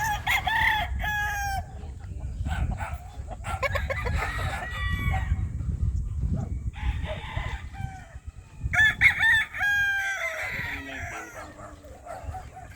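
Chickens and roosters on a hillside farm, several loud crows and clucks in bursts, some near and some overlapping, over a steady low rumble.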